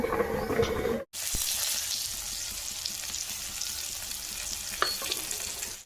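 Sliced pointed gourd fries in hot oil in a wok, giving a steady, close sizzle throughout with occasional clicks of stirring and a brief break near the start.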